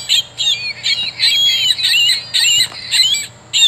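A Wild Republic Audubon plush California gull plays its recorded call: a run of bright, repeated squealing cries in quick bursts, fairly loud and close, with no one talking.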